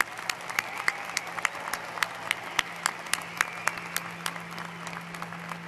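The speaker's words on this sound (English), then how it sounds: "one more round of applause for our graduate students" Applause for graduate students at a university commencement, steady clapping from a large audience with distinct individual claps punctuating the rhythm, moderately loud and continuous, a faint low hum beneath it.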